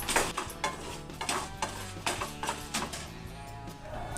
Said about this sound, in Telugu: పుట్నాల పప్పు వేయగానే 1 స్పూన్ జీలకర్ర, 2 రెమ్మల కరివేపాకు, తర్వాత మన టేస్ట్కి తగ్గట్టు కారం తగ్గట్టు మనము 6-7 ఎండుమిర్చి కూడా వేసుకొని ఇవన్నీ డ్రై రోస్ట్ చేసుకోవాలి